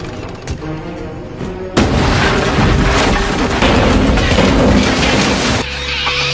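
A wooden wall on a boat explodes in a film scene, a sudden loud boom followed by several seconds of dense crashing, rumbling debris before it cuts off.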